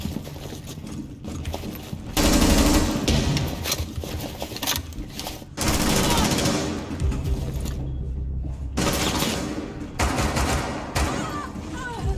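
Gunfire from the video game Rainbow Six Siege comes in repeated bursts of shots at fairly close range. The shots are mixed with mechanical clatter and game ambience, with little or no talk.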